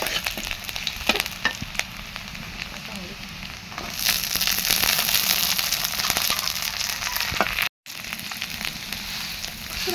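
Garlic sizzling in a hot pan with red amaranth greens, a continuous crackling fry that swells louder partway through, with scattered stirring clicks and a brief dropout near the end.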